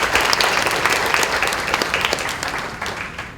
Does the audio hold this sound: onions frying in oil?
no